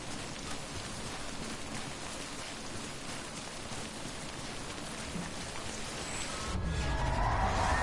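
Steady timefall rain in the Death Stranding video game, a dense even hiss of falling drops throughout that swells louder and heavier near the end, with no talking.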